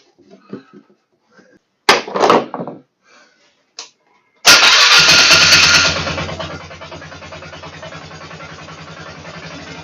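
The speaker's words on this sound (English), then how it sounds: "I got the Polaris up and running, idling good" A 2009 Polaris Sportsman 500 ATV with a freshly rebuilt carburetor fires up with a loud burst, then settles into a steady, close idle with an even low rumble, after some clatter and handling noises.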